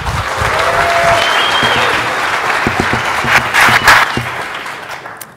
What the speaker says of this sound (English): I want to give a big round of applause.